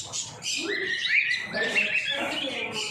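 Small pet birds, lovebirds and finches, chirp and twitter close by inside a bird shop, with bright overlapping calls over a low background murmur.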